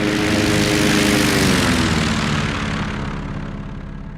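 A propeller plane engine drones in the flight sim game Combat Pilot 1, a loud, continuous, buzzing roar that slowly fades slightly toward the end.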